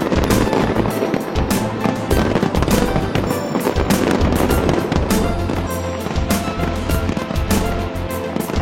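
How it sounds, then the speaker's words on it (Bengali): A massive New Year fireworks display in Dubai, United Arab Emirates, with more than nine tonnes of pyrotechnics going off in dense, continuous rapid bursts and crackles, loud and relentless for the whole stretch. "লাখো দর্শনার্থীর নজর কাড়তে পোড়ানো হয় 9 টনের বেশি আতশবাজি"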